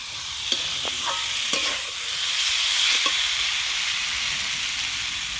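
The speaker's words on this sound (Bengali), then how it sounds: "ফুলকপিটা মশলার সঙ্গে ভালো করে কষে নেব" Fried cauliflower stirred with spices in a pan, giving a loud continuous sizzle with a few spoon scrapes and clicks early on, close by and without voices.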